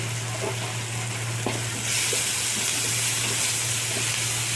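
Sweet corn sizzling and frying in a pan at home for a corn chilli dish, a steady loud hiss that swells stronger midway, with light stirring scrapes and no talk.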